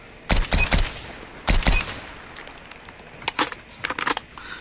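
SKS rifle fire in Call of Duty Mobile, three clusters of sharp, loud shots in quick pairs and triplets, followed by fainter echoing pops.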